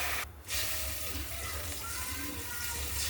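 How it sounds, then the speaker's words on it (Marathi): A glass of water poured into a hot tempering of cumin, garlic paste, turmeric and red chilli in oil, giving a continuous rushing, hissing gush after a brief gap near the start. "आता याच्यामध्ये फोडणीसाठी 1 ग्लास पाणी घातलं"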